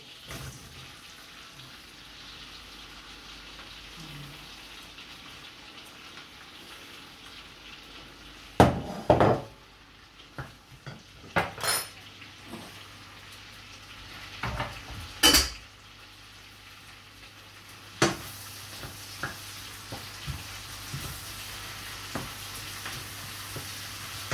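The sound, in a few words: onions cooking in melted butter in a pan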